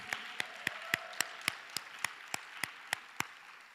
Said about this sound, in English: Could we please give a loud round of applause for all our 3-minute thesis masters category?